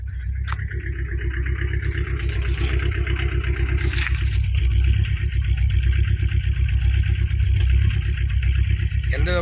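Engine of a 2012 Tata Indica car running steadily at idle in good condition, a continuous low rumble held close and loud throughout, with a brief louder bump near the middle.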